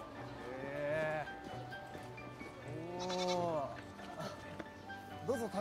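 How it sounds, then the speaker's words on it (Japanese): Goats at a petting corner bleat in several long, wavering cries, fairly close and loud, with quieter shuffling and background activity between them. "ヤギの触れ合いコーナー。"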